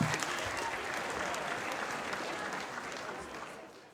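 Audience applause filling a comedy show hall in Quebec, a steady dense wash of clapping from a crowd that holds for several seconds before tapering slightly at the end.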